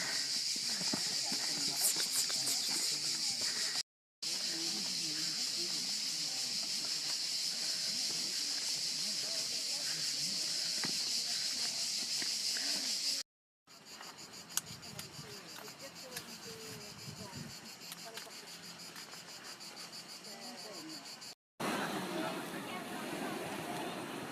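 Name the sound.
cicadas chirping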